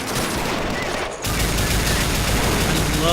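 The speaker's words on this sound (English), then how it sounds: "Taking a whole lot of fire because that MG gunner is just ripping it" Machine gun fire in the video game Men of War: Assault Squad 2, a dense, continuous fusillade of rapid gunfire. It dips briefly near the start, then resumes loud and unbroken through the rest.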